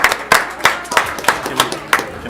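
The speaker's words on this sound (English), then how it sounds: "Give them a big round of applause." A small group applauds children after they recite the pledge, with sharp uneven claps in loose bursts close by and some voices mixed in.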